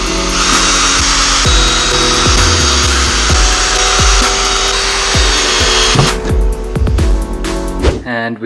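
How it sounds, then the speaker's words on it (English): A power drill drives screws into wooden planks while the top of a set of DIY drawers with a slide is fixed down. Repeated short bursts of whirring run over a busy, steady background, close and fairly loud. "Now I'm gonna measure up the top and then screw in the top to these planks here"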